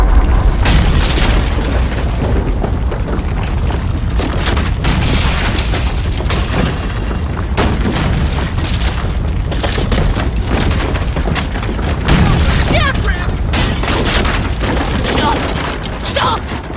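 Rumbling booms and crashing debris from a collapsing mine in the Bob the Builder video game, dense and continuous with repeated heavy impacts, voices talking over parts of it.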